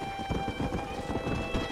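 Warhorse hooves in Red Dead Redemption, a rapid, continuous clip-clop of galloping steps heard close and loud with a steady rhythm and no talking.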